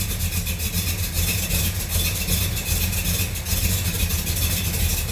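Fast idle of a 1970 Buick Skylark V8 with a 284-88H cam, a steady, loud low rumble that holds an even, slightly lumpy loping rhythm throughout, with no voices over it.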